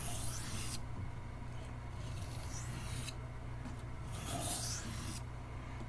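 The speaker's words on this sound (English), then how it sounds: "now I'm going to start rolling the burr back and forth" Steel knife blade stroked lightly back and forth across a 1000-grit whetstone to roll off the burr, giving steady soft rasping strokes close up with no talk.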